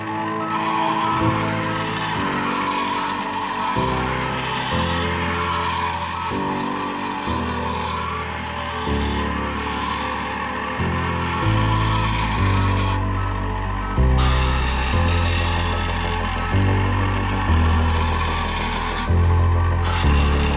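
A steady abrasive rasp of a knife blade against a water-cooled grinding stone continues for a long stretch, pausing briefly and resuming in repeated passes.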